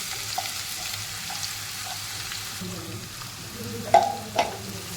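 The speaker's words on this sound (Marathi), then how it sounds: "एकदा हे इलायच्या आणि दालचिनी आपली भाजून झाली थोडी, हे आपण कांदा यात टाकून घेऊया." Onions added to a pan of frying cardamom and cinnamon, a steady sizzle with a few scraping stir sounds and a louder burst near the end.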